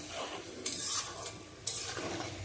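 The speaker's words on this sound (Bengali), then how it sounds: "এবার এর মধ্যে দিয়ে দিলাম আমি পনির আর কিশমিশগুলো দিয়ে ভালো করে আবারও কিছুক্ষণ কষিয়ে নেব" Paneer and raisins stir-fry in a pan for shahi aloo paneer, a low, faint sizzle with two brighter bursts of spatula scraping against the pan, close by and with no voices.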